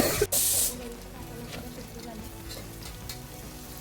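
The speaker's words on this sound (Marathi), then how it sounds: "मीठ घालू थोडेसे आणि बटाटा छान भाजून घेऊ." Potatoes with a little salt frying in a pan, browning until reddish, give a continuous close sizzle after a brief loud hiss at the start, with low background clatter and no clear speech.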